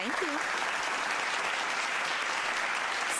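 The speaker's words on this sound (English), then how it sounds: "we want to give you a soul clap for that" An audience gives a sustained soul clap, a dense, even wash of clapping that holds steady throughout at moderate level, with a brief whoop near the start.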